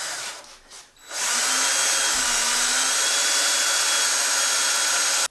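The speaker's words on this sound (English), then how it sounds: "I tried to drill that thing twice" A power drill with a cobalt bit grinds into hardened stainless steel on a car. After a brief start it runs as one loud, steady, high whine for several seconds before cutting off.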